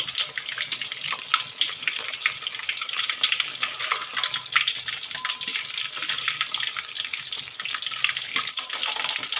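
Tahu aci, tofu stuffed with tapioca dough, frying in hot oil over medium heat, a dense crackling sizzle with fine rapid pops, steady and close, and no talk.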